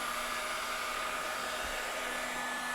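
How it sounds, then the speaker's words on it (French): Hot air gun blowing a steady, continuous whoosh while heating a roofing membrane over cavity wall insulation on masonry, a close, even hiss with a faint constant hum and no talk. "Faire chauffer la membrane supérieure à l'aide d'air chaud"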